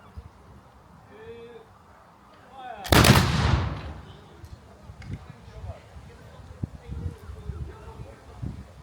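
A single loud black powder musket volley cracks out at an English Civil War reenactment on a village church farm, booming near and decaying over a second, with faint voices and outdoor ambience before and after.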